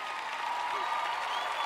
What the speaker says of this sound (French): Vous avez applaudi, c'est bien.